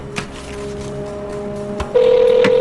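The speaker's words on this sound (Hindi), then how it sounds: "वो मेरा फोन है।" A mobile phone starts ringing partway through, a steady electronic ring tone entering suddenly and loudly over a quiet room background in a Hindi-dubbed film scene.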